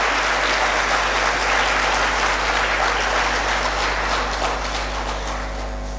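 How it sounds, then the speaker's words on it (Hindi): Loud, dense applause from a large audience at an Independence Day celebration in India, a steady wash of clapping that holds for about six seconds and eases slightly at the end. "जोरदार तालियां बजाएंगे।"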